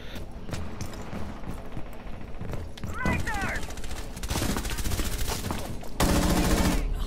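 Rapid gunfire in the tactical shooter game Rainbow Six Siege, with volleys of automatic fire crackling in bursts and a louder stretch near the end, under excited shouting from a player.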